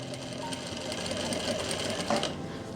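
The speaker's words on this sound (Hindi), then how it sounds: "तो गाइज़ अब मैं सिलाई लगाना स्टार्ट करूँगा।" A sewing machine stitches a zip into the back of a kurti, running in a steady, continuous close-up whir with no pauses.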